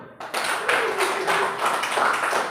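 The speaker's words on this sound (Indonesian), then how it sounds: "Tepuk tangan dulu." Students in a classroom clapping after a group discussion and presentation, a short burst of clapping from a small group that starts abruptly and keeps going at moderate loudness.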